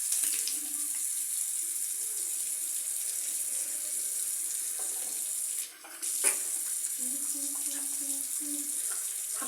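Tap water running continuously during face washing, a steady close hiss that briefly dips and is broken by a splash or clatter partway through before flowing on; no speech.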